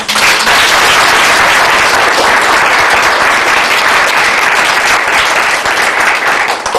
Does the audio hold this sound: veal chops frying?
no